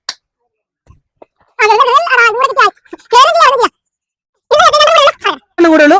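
Chickens in a shed squawk loudly and close up while being caught, in several harsh, strained bursts separated by brief pauses.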